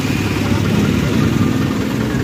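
An owner-type jeep fitted with a 4D56 engine runs in a steady low idle, a continuous rumbling drone heard close by with no pauses.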